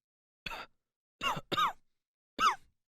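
A man coughs and gasps in four harsh, choking bursts with short pauses between them, close and otherwise quiet.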